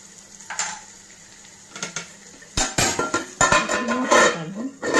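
Mutton keema curry is stirred in a pan, with a spoon scraping and clanking against the metal in bursts over a low sizzle, close and loud, growing busier toward the end.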